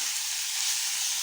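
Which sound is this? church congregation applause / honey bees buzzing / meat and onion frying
meat and onion frying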